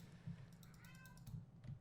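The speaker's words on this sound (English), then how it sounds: "And my cat's going crazy right now." A pet cat meows several times, close and fairly clear, over steady low background hum and faint keyboard typing.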